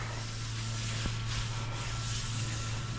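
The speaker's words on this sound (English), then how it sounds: "After three rounds of sanding," Steady abrasive rubbing of sandpaper against car body paint in a garage, continuous and close, with a low hum underneath and no talking.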